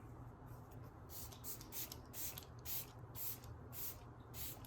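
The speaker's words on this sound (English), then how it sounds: "I'm going to set my face with the e.l.f. setting spray." A series of short hissing sprays from an e.l.f. makeup setting spray pump bottle misting a face, repeated roughly every half second, close and fairly quiet.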